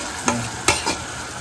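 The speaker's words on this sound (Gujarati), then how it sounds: "અને હવે એમાં નાખે છે ટમાટરની ગ્રેવી." Tomato gravy goes into a pan of frying onions and chillies and is stirred, with a steady close sizzle broken by three sharp scraping strokes of a spoon against the pan.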